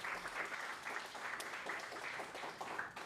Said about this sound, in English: Let's give Mr. Banjo a round of applause